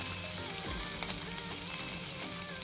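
Onion and green chilies fry in a pan for paneer bhurji, a constant hissing sizzle heard close with faint crackles throughout.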